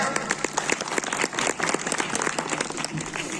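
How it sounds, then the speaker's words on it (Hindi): A crowd at a Republic Day school gathering in Udhampur applauds a commendation certificate, with dense, steady clapping throughout and no voice over it. "उसके लिए तालियां"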